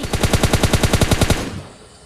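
Automatic gunfire in the video game PUBG Lite: a rapid, evenly spaced burst of about a dozen loud shots that stops abruptly and trails off into a fading echo.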